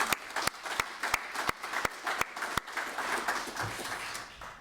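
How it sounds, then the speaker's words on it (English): Audience applause at an artificial intelligence and Earth observation conference, opening with sparse, distinct individual claps that quickly thicken into a fuller, continuous round from a moderately sized crowd. "a round of applause for them,"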